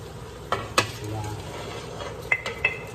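Shrimp tipped into a pot of wilted string beans for a shrimp, vegetable and coconut milk dish, with a few sharp metallic clinks and scrapes of a utensil against the pot over a soft steady background.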